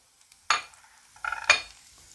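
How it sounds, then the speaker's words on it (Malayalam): A pinch of cumin seeds hitting hot oil in a pan for a lentil and drumstick-leaf curry gives two short crackling bursts of sizzle, each fading quickly, near and with no talking. "എണ്ണ ചൂടായപ്പോഴേ നമ്മളിത് ഒരു പിഞ്ച് ചെറുജീരകം ഇട്ട് കൊടുത്ത്"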